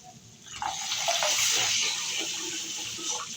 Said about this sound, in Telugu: చారులో పోసుకోవాలి.